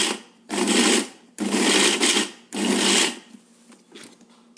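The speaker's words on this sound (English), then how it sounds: "Then to the warm ragi, we're just going to mix it like a couple of times in short bursts." A kitchen mixer grinds warm ragi with powdered jaggery in three short, loud whirring pulses, each about a second long with brief pauses between, followed by faint rattling as the jar settles.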